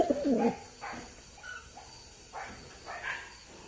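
Pigeons cooing in soft, spaced calls, a low burst near the start followed by several quieter coos, fairly close with no talking.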